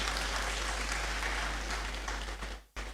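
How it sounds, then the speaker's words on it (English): Graduates at a congregation ceremony in a great hall give themselves a loud, dense round of applause that fills the room, then fades and cuts off abruptly near the end. "I think we all deserve a round of applause for ourselves."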